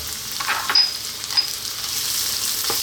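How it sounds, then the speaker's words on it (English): Onion, garlic and ginger sizzling in nutty sesame oil for Chinese chicken noodle soup, a bright, even crackling fry with a few louder spits and pops. "sesame oil, nice nutty flavour. And we're going to drop in first our onion, along with our garlic and our ginger."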